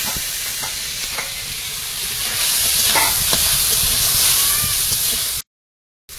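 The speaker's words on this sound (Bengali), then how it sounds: "চুনো মাছগুলো দিয়ে ভেজে নেব।" Small chuno fish fry in oil in a pan, giving a steady, loud, crackling sizzle that swells slightly midway, with occasional stirring clicks, before cutting off abruptly near the end.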